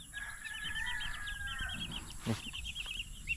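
Sick young chicks and chickens in a backyard flock give a run of high, rapid peeping and chirping calls with soft clucks, fairly quiet and near, with a brief low knock partway through.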